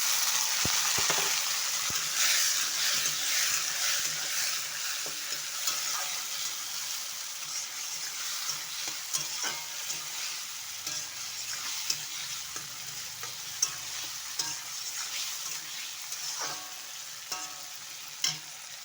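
Chopped onion and tomato fry in a pan for poha, a steady, close sizzle broken by scraping stirs and small crackles, with no talking.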